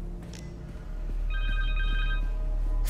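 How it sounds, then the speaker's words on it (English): A cell phone rings in the Marvel's Spider-Man 2 video game, a repeating electronic ring tone that starts partway through and rises over a low ambient game background. "Connor's cell phone."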